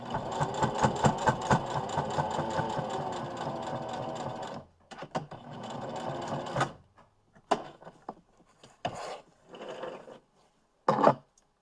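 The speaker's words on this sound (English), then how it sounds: "your machine might protest a little bit because it's going over those pleats" A sewing machine stitches through the pleats of a fabric face mask: a long rapid mechanical run for several seconds, then a pause and a series of shorter stop-start bursts, close and moderately loud.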